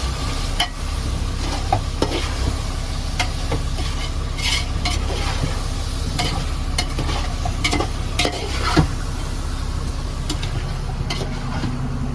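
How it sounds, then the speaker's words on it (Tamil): Tuna fish curry, made with yellow fish tuna, boiling hard in a pot, a loud continuous bubbling hiss with frequent sharp pops and spatters, heard up close with no talking. "நல்லா குழம்பு கொதிச்சிருச்சு"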